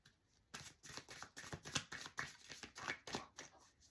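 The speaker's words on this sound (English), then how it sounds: "Last shuffle." A deck of playing cards is shuffled close by, a quiet run of rapid riffling flutters and soft slaps in quick uneven bursts, with no talking.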